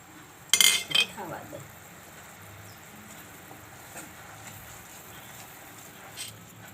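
A metal spoon stirring ingredients for sing pak in a cooking pot, with a few close clinks and knocks against the pot near the start, then long stretches of near quiet with only faint scrapes.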